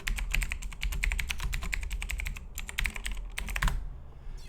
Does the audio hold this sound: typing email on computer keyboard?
yes